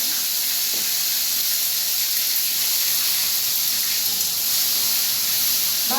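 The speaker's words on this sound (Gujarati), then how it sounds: "પહેલાં તો આપણે ટમેટા વઘાર નાખીએ" Tomatoes added to hot oil for a tempering in a home kitchen give a steady, loud broadband sizzle and hiss that holds unchanged throughout, with no voices.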